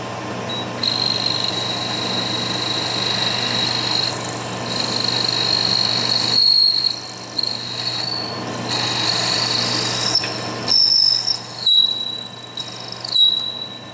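Milling machine quill working while machining a drawbar part in a home machine shop, a steady mechanical whir with a high squeal that changes pitch, briefly dropping out and returning near the end.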